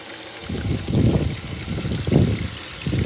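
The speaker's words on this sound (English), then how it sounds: "let's flow some water and see how well this works. We'll just turn it on full bore." Water running at full flow through the grey water drain of a pop-up camper, a steady close gurgling rush that swells in a few pulses over a few seconds, with no voices.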